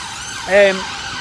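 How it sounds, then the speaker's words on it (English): An ambulance siren is heard passing outdoors, a brief wailing tone that rises and falls over steady background noise. "Always happens an ambulance comes when I'm actually doing this."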